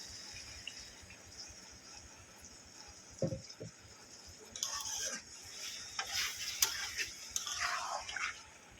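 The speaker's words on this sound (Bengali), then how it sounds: "এটাকে এবারে দু থেকে তিন মিনিট একটু আমি ফুটিয়ে নেব" Chicken curry with potatoes simmers in a pan with a little water added, a soft steady bubbling bed broken by a couple of spoon knocks and then livelier sizzling and stirring scrapes toward the end.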